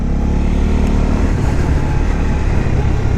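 A Honda CB125R 125cc motorcycle from 2021 accelerates hard with a steady, loud engine drone held near the rider for a few seconds, no voices over it.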